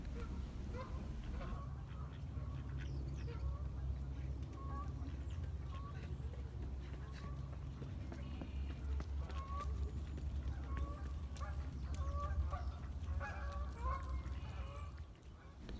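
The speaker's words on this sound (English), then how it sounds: "recording a bunch of ducks" A flock of ducks quacks outdoors in a long series of repeated calls, steady over a low background rumble, with people talking nearby at times.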